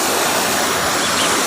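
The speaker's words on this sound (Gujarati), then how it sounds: "પાણી ધમધોખાર ચાલી રહ્યું છે." Water gushes through the open gates of a brim-full dam in a steady, loud, broadband roar that fills the whole moment without pause and with no voices.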